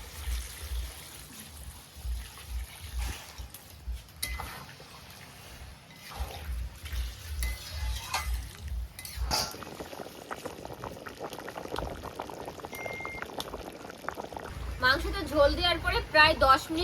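Hot water poured into a pan of spiced chicken curry, then a vigorous, continuous bubbling boil with stirring and splashing, with a voice talking over parts of it.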